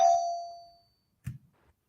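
A single bell strike rings out bright and clear, then decays over most of a second into silence, followed by a faint short thump.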